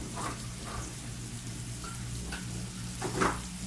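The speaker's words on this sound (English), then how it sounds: "Melt that butter." Butter melting in a pot for a one-pot chicken and pasta meal hisses softly and steadily, with occasional small crackles and pops. No one speaks.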